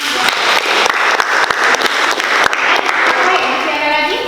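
A classroom group gives loud, dense applause with rapid overlapping claps that tail off near the end; a voice is heard briefly.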